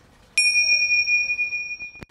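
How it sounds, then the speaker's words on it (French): A single small gong or bell strike rings out sharply, leaving a clear, sustained metallic tone that slowly fades over under two seconds before a brief click. "je vais vous faire un coup de gong"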